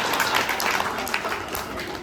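Audience applause at an AKCC gathering: a dense, steady wash of many hands clapping together, fairly close and sustained throughout, with no talking over it.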